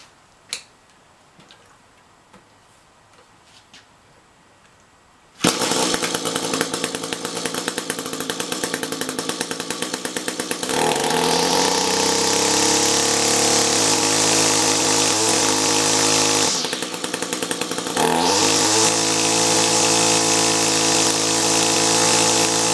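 An Echo chainsaw engine bursts to life after a few quiet seconds of faint clicks, then idles loudly and revs up hard, holding a high roaring whine with brief dips.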